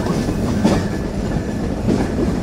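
The Kapotaksha Express runs on from Hardinge Bridge toward Pakshi station, heard from on board as a steady loud rumble of wheels with rhythmic clatter and no voices.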